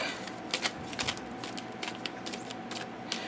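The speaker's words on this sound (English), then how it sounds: "it does change the way that it shuffles, especially with thicker cardstock" Trimmed tarot cards on thick cardstock are shuffled up close, giving a dense, papery riffling with repeated flicking bursts in a steady rhythm and no voices.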